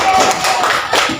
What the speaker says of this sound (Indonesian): Tepuk tangan dulu buat Justin.